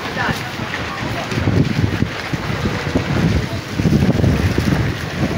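Wind gusts through the open-air Tabora Market in Divisoria, Manila, buffeting the microphone in rumbling surges that rise and fall.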